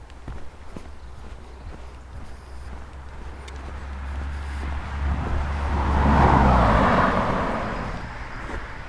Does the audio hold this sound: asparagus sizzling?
no